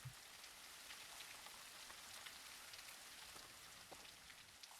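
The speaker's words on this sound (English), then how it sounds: "Just me and my looping rain sound effect." Looping rain sound effect: steady, soft patter of rain on a surface, continuous and even with scattered droplet ticks and no voices.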